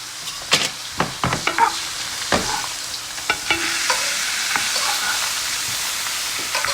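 A steak sears in butter in a hot pan: a run of sharp scraping and tapping strokes gives way to a steady, close, loud sizzle.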